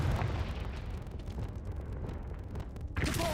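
A Confringo fire spell explodes in the Hogwarts Legacy video game, a dense rumbling blast that fills the whole moment, followed by a fresh loud burst at the end.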